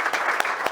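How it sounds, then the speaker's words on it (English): Brief burst of audience applause at a corporate talk, many hands clapping densely in a room, steady and moderately loud for under a second. "round of applause to Demant."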